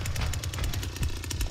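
Leatherface's chainsaw roars in the Texas Chain Saw Massacre video game, a loud, continuous, rattling engine drone with pulsing revs throughout.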